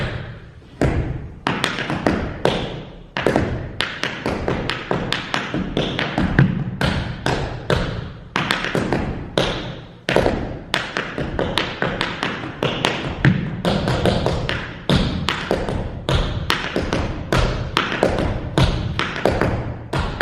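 Rapid, crisp tap dance steps on a hard floor, sharp metallic clicks and heel thuds in a steady swinging rhythm with no pauses.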